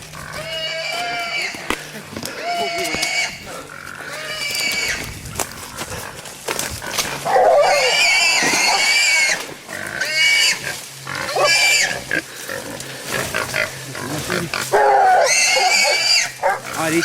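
Wild hog squealing in loud, repeated high-pitched bursts while hunting dogs bay and bark around it, with hunters' voices mixed in during a dog-and-knife hog hunt.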